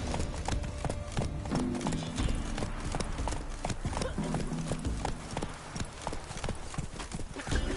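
Roach, a horse in The Witcher video game, gallops with a steady, fast clip-clop of hooves that runs loud and close throughout, with an occasional whinny and faint voices beneath.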